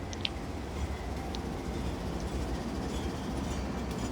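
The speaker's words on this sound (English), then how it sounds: "7934 leads a load of tankers west through downtown Navasota on October 19, 2019" A BNSF GE ES44C4 locomotive leads a train of tank cars west through downtown Navasota, Texas, giving a steady, continuous low rumble of engine and rolling wagons with a few faint squeaks above it and no talking.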